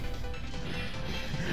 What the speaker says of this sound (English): It makes like some sort of cymbal crashing sound when I do it.